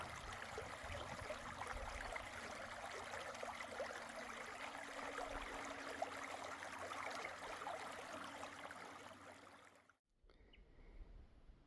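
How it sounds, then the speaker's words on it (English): A mountain creek in the Snowy Mountains runs steadily and fairly close, a continuous broadband rush of flowing water that cuts out abruptly near the end before returning more quietly. "Just listen to that beautiful sound of running water."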